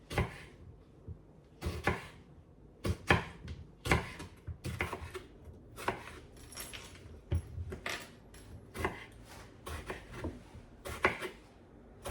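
A knife cuts green tomatoes on a board in a home kitchen, producing irregular, soft taps and thuds with pauses between, close and quiet, with no talking.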